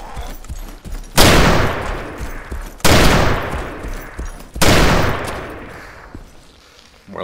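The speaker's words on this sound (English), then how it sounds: "The guy's shooting at us." Gunfire in the video game Arma 2 DayZ: three sharp, loud shots roughly a second and a half apart, each followed by a long echoing tail that trails off over the next second.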